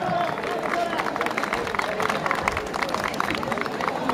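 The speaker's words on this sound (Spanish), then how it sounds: "¿De dónde están esos aplausos para esta institución emblemática?" Crowd applause and cheering for a school at a 67th anniversary parade in Barranco, a steady dense wash of clapping with babble mixed in throughout.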